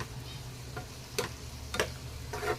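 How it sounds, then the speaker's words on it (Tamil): Beetroot fry with curry leaves cooking in oil on a medium flame, a faint background sizzle broken by a few distinct scraping clinks of a spatula stirring in the pan. "நடுவில் கொஞ்சம் ஓப்பன் பண்ணி அப்படியே கிளறி விட்டுக்கோங்க"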